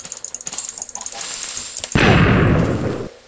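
A creeper in Minecraft blows up with a loud, sudden blast that follows a string of footsteps and small game noises, the roar sustaining for about a second before cutting off.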